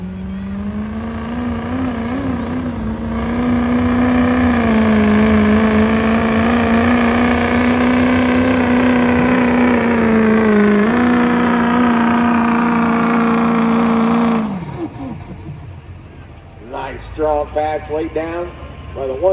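A Ford 6.0 Powerstroke diesel one-ton dually truck in a work stock pulling class, its engine droning loud and steady under strain for about fourteen seconds before cutting off, followed by a brief quieter stretch with scattered sounds.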